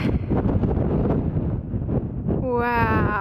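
Strong wind buffeting the microphone in heavy gusty rumbles high on the hill at Dinas Bran above Llangollen, Wales, with a brief tonal warble near the end.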